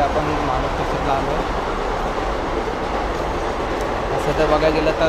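Trains run at Bhandup railway station in Mumbai, a steady rolling rumble with wheel clatter over the rails, close and continuous, with station crowd noise and voices mixed in.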